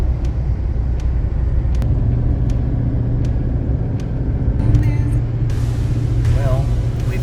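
Duramax truck cruising on a mountain road at 6,000 feet, a steady low engine and road rumble with faint clicks, while people talk inside the cab.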